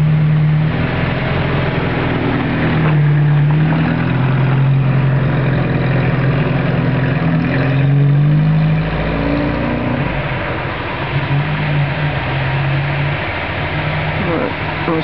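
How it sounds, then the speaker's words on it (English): A 1958 Ford Prefect 100E small car's engine hums steadily and close, rising and falling a little as it drives off to be parked, with a voice speaking at moments. "I'm just going to drive our little Prefect and put it to bed."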